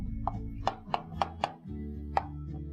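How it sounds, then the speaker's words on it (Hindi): A knife slices onions on a board, giving about six crisp, irregularly spaced chops close up over a low steady background hum. "अनियन कर रहे हैं स्लाइस, प्रोसेस जारी है"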